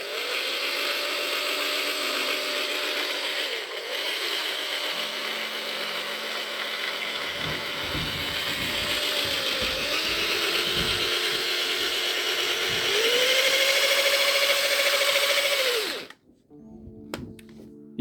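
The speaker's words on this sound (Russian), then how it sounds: "этот звук идет от зацепления вот этих шестерен" VAZ 2110 gearbox running on a test stand after repair, a steady mechanical whir with a faint whine of meshing gears and rattly clatter, rising slightly before cutting off abruptly near the end, loud and close with no talk.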